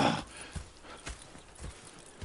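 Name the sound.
horses clip-clopping in the video game Red Dead Redemption II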